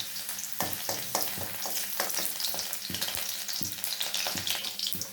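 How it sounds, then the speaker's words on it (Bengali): Garlic spitting and crackling in hot oil for a Bengali prawn and red amaranth stir-fry, with a steady dense sizzle broken by the scrape and clatter of a spatula stirring the pan, close up and with no talking. "তেলটা কিন্তু আমার গরম হয়ে গেছে, দিয়ে দেবো রসুন ফোড়ন।"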